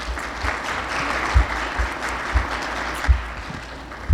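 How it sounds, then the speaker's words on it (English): A room of people at a Founders Day event applauds, giving steady, dense clapping that holds throughout, fairly near and loud, with a few thumps standing out. "So please help me welcome with a round of applause"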